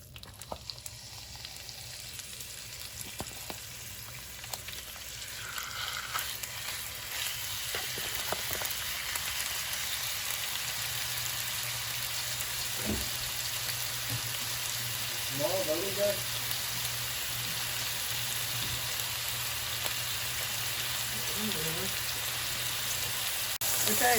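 Ground turkey sizzles and fries steadily in a hot pan, a dense continuous crackle with a few clinks of utensils and brief stirring sounds.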